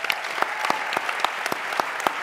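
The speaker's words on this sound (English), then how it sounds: "Let's have a final round of applause for all of our panelists." A panel discussion audience applauds its panelists with an even, fairly rhythmic patter of many hands. The clapping is steady and close, with regular louder claps standing out.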